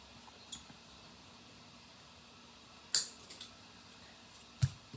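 Scissors snipping 0.8 mm nylon cording for a wire cuff bracelet, a few quiet, sharp clicks spread across a near-silent background, the clearest cuts coming close together.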